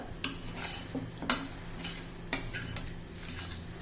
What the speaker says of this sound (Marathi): छान असं हलवून घ्यायचे